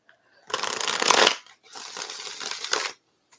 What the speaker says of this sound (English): Sometimes the shuffling doesn't go my way